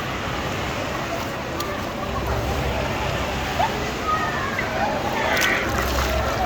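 Large waves at Cox's Bazar beach slosh and break in an unbroken, loud surf wash that swells slightly now and then, while people can be heard faintly talking nearby.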